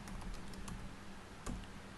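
Someone types on a computer keyboard while entering categories in WordPress, a few quiet, scattered keystrokes close by with a louder tap near the end.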